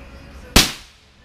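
A single sharp, loud crack of a .22 LR CCI Copper round being fired, standing alone with a short decaying tail.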